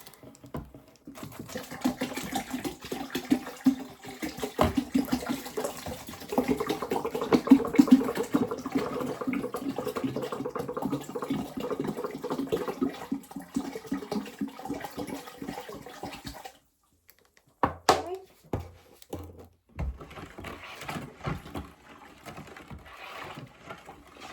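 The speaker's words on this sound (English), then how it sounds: "We're going to add in another gallon of water." Water splashes and gurgles as a gallon is poured into a container of grape wine must with sugar, a steady flow for several seconds, then stops, followed by a few clunks and handling noises.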